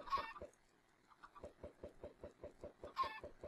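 Minecraft chickens cluck in a steady run of short, close clucks, with louder squawking bursts at the start and again near the end; no one speaks.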